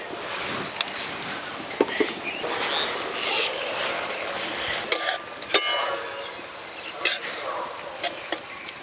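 Garden-grown cabbage with a little salt frying in a pan: a continuous soft sizzle with scattered sharp clacks of a spatula against the pan, close by and without talk.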